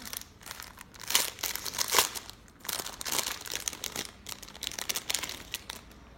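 A parcel is opened with close, busy crinkling and rustling of plastic packaging, crackly bursts coming and going without pause for several seconds.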